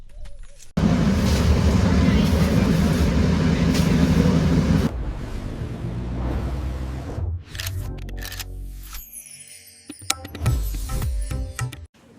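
Yal Rani passenger train arriving at a Sri Lankan station: a loud, steady rumble of wheels and engine dominates the first several seconds, then eases into quieter clattering and station ambience with scattered clanks.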